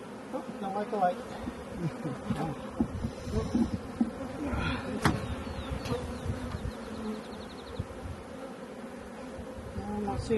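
Honeybees swarm and buzz around an open hive during an inspection, a dense close drone of many wings rising and dipping for several seconds, with faint voices at times.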